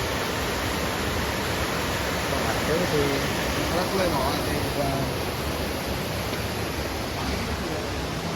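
Clear water rushes down in a stream near the Marleshwar temple at Maral, fed from high above: a steady, close, dense hiss of flowing water that holds even throughout with no breaks.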